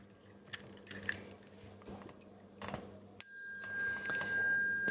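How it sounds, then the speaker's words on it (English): A Buddhist hand bell is struck once during a sutra lecture and rings out clear and sustained, its bright tone holding steady after a few soft handling clicks. "I'm going to pick up my bell."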